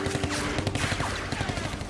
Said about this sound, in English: Suddenly, the trees come alive with gunfire